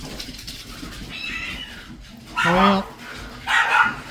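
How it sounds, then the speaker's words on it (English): A cat and a dog scuffle indoors, with yelps, a sharp yowl and a snarling burst rising over room noise, while a person speaks a word. "I've got to go break up a cat and a dog fight"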